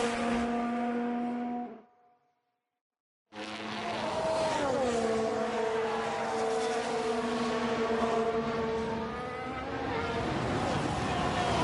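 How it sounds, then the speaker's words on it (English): Formula 1 cars in the video game F1 Manager 2022 scream past with high, sustained engine whines that shift pitch through gear changes, after a brief moment of silence. "Those engine sounds are so good."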